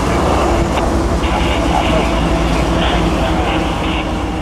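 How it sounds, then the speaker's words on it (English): Train A750, daily Waycross-to-Savannah freight traffic, rolling across a railroad bridge overhead near the Satilla River: a loud, continuous low rumble with rhythmic clatter and metallic squeal, steady and close for the whole stretch. "The train rolling overhead is A750, daily traffic from Waycross to Savannah and back."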